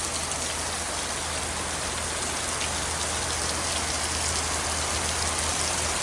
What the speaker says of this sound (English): It's raining a lot all of a sudden.